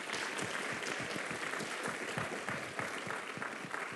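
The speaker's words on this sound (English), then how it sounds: "Give them another warm round of applause" An audience at a university Founder's Day convocation applauds its panelists in a steady, dense round of clapping that continues evenly throughout, heard from a distance in a large hall.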